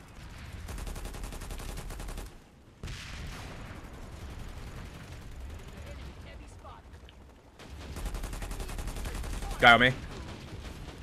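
Gunfire in the game Planetside 2, repeated bursts of rapid automatic fire with a louder volley near the end, close and loud, while someone speaks briefly.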